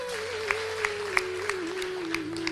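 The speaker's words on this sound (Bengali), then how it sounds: "তাহলে নিজেদের জন্য একটা উষ্ণ করতালি হবে।" An audience at a Swarna Kishori event claps together in steady, moderate applause heard from a distance, with a sustained tone running underneath.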